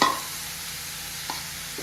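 Carrots frying in ghee for carrot halwa give a steady sizzle with a soft stir near the start and two faint utensil scrapes later, with no talk.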